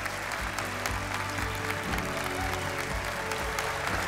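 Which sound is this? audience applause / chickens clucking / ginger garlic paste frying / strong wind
audience applause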